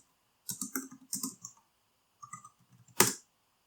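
Typing on a computer keyboard, two quick bursts of close key clatter separated by a pause, then a few lighter taps and one louder final keystroke, no talking.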